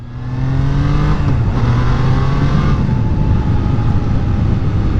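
A Triumph Trident motorcycle accelerating hard, its engine note climbing loud and close through a gear change, with strong rushing wind noise throughout.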